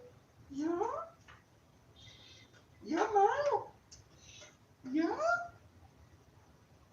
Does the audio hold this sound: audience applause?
no